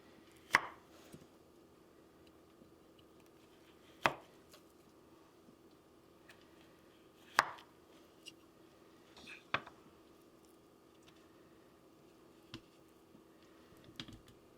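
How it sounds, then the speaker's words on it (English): A knife cutting through cherry mash candy on a board, about six sharp separate chops spaced a few seconds apart against a quiet background, with no talk. "And then I'm going to slice them this direction."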